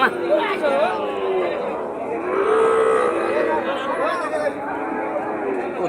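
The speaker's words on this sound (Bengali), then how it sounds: "এই যে এই পাশে সুন্দর সুন্দর গরু," Cattle moo repeatedly at a busy rural cattle market in Joypurhat, with several long lowing calls over a steady crowd chatter and nearby voices.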